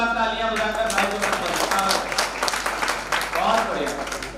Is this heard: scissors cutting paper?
no